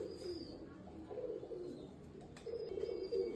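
Pigeons in a loft with paired silver, black and pankhi birds, giving soft, low cooing in quiet bursts that swell near the end, close but not loud.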